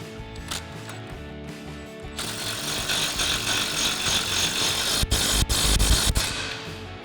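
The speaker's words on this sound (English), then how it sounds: "Now we can go ahead and tighten this down using our 18mm socket and swivel adapter on our impact." An impact wrench with an 18mm socket and swivel adapter tightens a nut on a Silverado 1500 suspension in a garage, making a loud rattling hammer-like burst that follows a quieter mechanical stretch.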